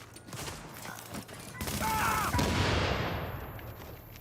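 Gunfire in The Division, a busy spread of shots and bursts running under game sounds and some talk, louder in the second half.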